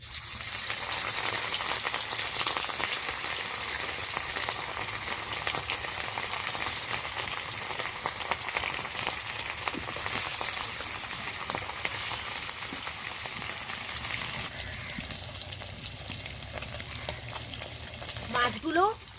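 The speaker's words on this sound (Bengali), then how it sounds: "তেল ভালো করে গরম করে নিয়েছি এখন দিয়ে দেব মাছগুলো" Marinated rohu fish pieces frying in hot oil, with a dense steady sizzle and crackle throughout, close up and without talk, and a few clinks near the end.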